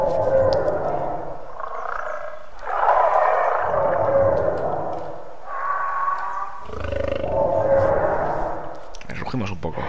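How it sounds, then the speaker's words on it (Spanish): A carnivorous dinosaur in the survival game The Isle lets out a series of deep, drawn-out roars, about four long bellowing calls with brief gaps between them, loud and close. "Rugimos un poco."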